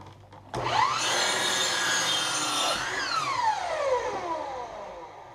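A sliding compound miter saw cuts wood for a deck shelf: the motor spins up loudly, whines steadily through the cut for a few seconds, then winds down with a falling pitch.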